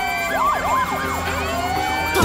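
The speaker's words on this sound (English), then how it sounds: "Do you hear all those sirens?" Several wailing sirens sweep up and down over one another, steady and fairly loud, with a thump near the end.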